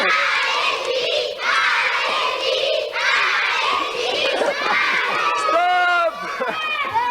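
Children's voices shout and cheer excitedly during a game on a French TV studio set, a loud continuous crowd din with higher-pitched calls rising above it and an adult voice speaking at times.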